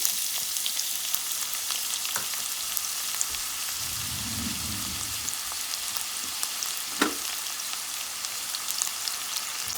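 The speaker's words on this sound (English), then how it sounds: "today I'm gonna saute the onions" Onions sauté in hot oil for Guyanese baigan choka, giving a steady, close crackling sizzle throughout, with a brief low rumble and a couple of sharp spoon scrapes.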